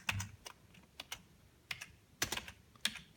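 Fingers tap on a computer keyboard while entering spreadsheet headings, a faint, close, irregular patter of clicks in small clusters with short gaps and no speech.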